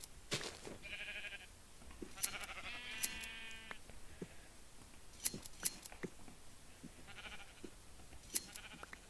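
Sheep bleat repeatedly inside a Minecraft survival game, short nasal cries arriving in several separate bursts alongside brief sharp clicks from gameplay, fairly close and clear with no talking over them.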